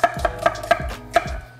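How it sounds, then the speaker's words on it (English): A knife rough-chops a whole onion on a cutting board in a home kitchen, about five sharp, evenly spaced chops heard close up with no talk. "just run a knife through that and then just chop, rough chop"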